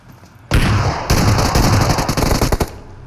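Loud gunfire in a battle royale video game, with shotgun blasts: a sudden burst at half a second, then a sustained volley of rapid shots that tails off into a few separate cracks.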